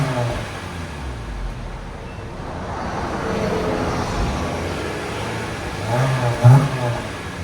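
A 2024 Honda Civic Sport with a 2.0L engine and straight pipes revs under a steady exhaust drone, with one sharper, louder blip near the end.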